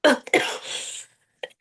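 Two sharp, close coughs in quick succession, followed by a breathy rasping tail and a faint catch at the end.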